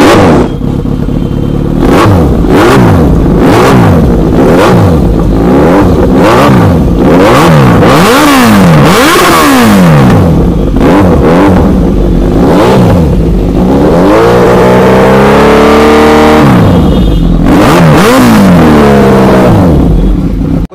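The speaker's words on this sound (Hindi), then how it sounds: "जो इसके अंदर एग्जॉस्ट लगा हुआ है उसकी साउंड सुनाते हैं। इसके अंदर SC प्रोजेक्ट लगा" A superbike fitted with an SC Project aftermarket exhaust revs hard and repeatedly, sharp throttle blips rising and falling in pitch over a loud close idle, then a longer sustained rev near the end.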